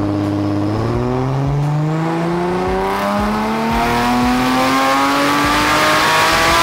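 A car engine revs hard on a dyno, its loud, continuous roar climbing steadily in pitch for several seconds, close up and with no voices.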